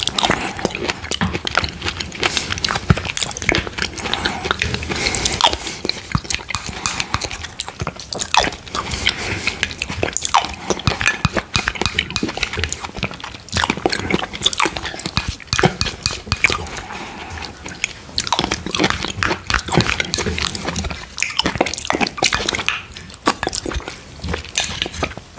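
Close-up eating of mango sago pudding, with continuous soft wet slurping, spoon clinks against a dish and small chewing sounds filling the whole stretch at steady close range, no talking.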